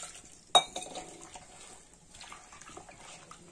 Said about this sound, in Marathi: गुटोडी नाही राहून द्यायची, पूर्ण मिक्स करून घ्यायचं